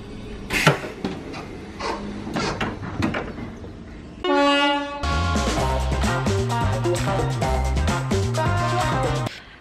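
Train horn honking at a Merseyrail station, Manor Road on the Wirral, a sustained tonal blast that follows crowd noise and then gives way to a loud train rumble with musical tones.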